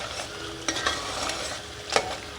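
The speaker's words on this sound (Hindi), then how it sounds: "अब मैं इसकी आंच तेज़ कर रही हूँ और तेज़ आंच पे हम इसको अच्छे तरीके से भूनेंगे" Onion and tomato masala sizzling in a pan over high heat, a continuous frying hiss broken by a few short scraping stirs of the spoon, close and alone.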